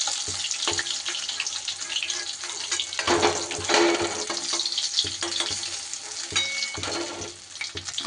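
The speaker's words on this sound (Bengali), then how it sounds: "এদিকে আমার মাছগুলোও কিন্তু বেশ ভাজা হয়ে গেছে সুন্দর করে।" Rui fish pieces frying in hot oil make a dense, continuous sizzle with crackling pops and occasional stirring scrapes, loud and close throughout.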